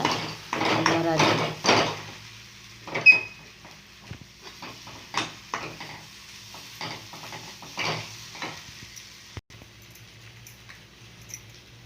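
Egg sautéed in a pan with chili powder and turmeric, giving a soft sizzle with repeated scraping and stirring strokes of a spatula against the pan, fairly close, with brief voices and clinks of utensils.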